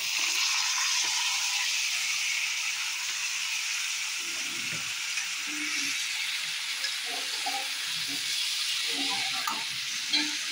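Bitter gourd frying in a pan with onion, bay leaf, nigella seeds and spices, a steady loud sizzle and hiss running throughout, with scraping stirring noises scattered over it and no talk.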